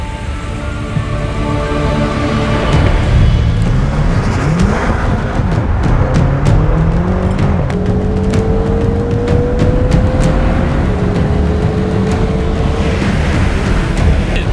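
Tesla Model S P85+ drag racing a BMW M5, with a loud, steady roar of engine and road noise and rising tones as the cars accelerate, continuous throughout.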